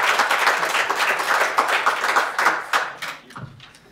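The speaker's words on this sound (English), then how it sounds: "I'd like you all to please join me, even online, clap, in welcoming Steve to the podium" An audience at a groundwater data presentation applauds to welcome a speaker to the podium, a dense patter of many hands that swells, then thins out and fades near the end.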